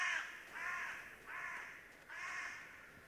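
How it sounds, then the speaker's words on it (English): Crows cawing in a Minecraft modpack game, four drawn-out harsh caws spaced about half a second apart, fairly faint and alone without talk. "Let me know if the game sounds like those birds are too loud."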